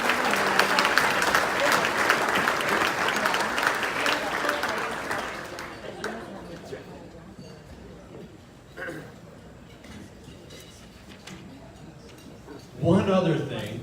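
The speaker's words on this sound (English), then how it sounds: "Give her a big round of applause." An audience at an agricultural appreciation banquet in Aberdeen claps in a dense burst of applause that gradually thins and fades into scattered claps, followed by a short spoken remark.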